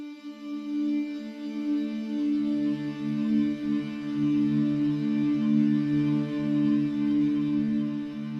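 A glassy synthesizer texture runs through Omnisphere's granular engine, holding a steady, shimmering sustained chord with bright upper overtones that shifts slightly as it goes on.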